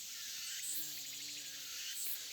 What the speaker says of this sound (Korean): 지금 벌들이 아주 윙윙 아 여기 비비추 안에 싹 들어가는 게 보이시죠?